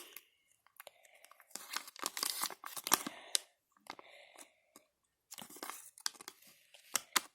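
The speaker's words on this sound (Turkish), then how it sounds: "Paketin içinde bir oyuncak. Acaba neymiş açalım." A Kinder Surprise egg's plastic toy package being torn open at close range, giving irregular bursts of crinkly tearing and crunching with short pauses between them.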